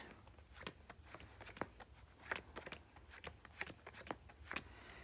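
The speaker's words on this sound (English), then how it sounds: "you're going to shuffle Farmer Brown into these cards" Playing cards riffle and snap in quick bursts as a deck is shuffled for the Snack Rabbits card game, a papery flutter repeated several times with short pauses, close and fairly quiet.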